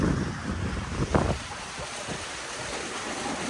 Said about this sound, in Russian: Горячий ветер.